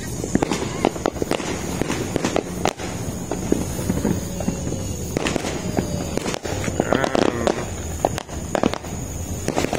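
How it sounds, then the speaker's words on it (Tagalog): New Year fireworks bursting outside, with repeated sharp cracks and pops at irregular intervals over a busy background, some near and loud, others more distant. "Fireworks, oh."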